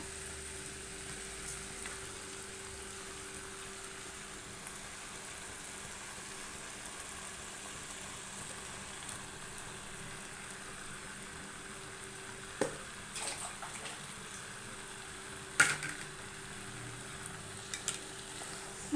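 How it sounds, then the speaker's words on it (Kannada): Steady low sizzle of freshly ground masala frying in a pan for chicken sambar, with a few scraping stirs and clinks later on; no talking. "ಒಂದು ನಿಮಿಷ ನಾವು ಫ್ರೈ ಮಾಡ್ಕೊಳೋಣ ನೋಡಿ"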